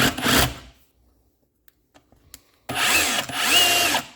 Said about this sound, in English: This drill has a lot of power too, so it adds a little bit more than my standard drills.